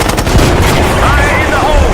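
Rapid gunfire in a Call of Duty: Black Ops 6 combat cutscene, a dense, continuous barrage of shots with loud rumbling mixed in, filling the whole moment.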